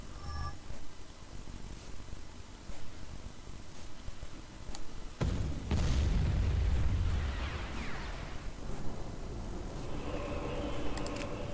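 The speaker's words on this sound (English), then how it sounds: "And then I can call in bombing runs." Bombing run explosions in the Empire at War strategy game: a sudden loud blast near the middle swells into a heavy, rumbling roar that slowly fades, with crackling battle noise around it.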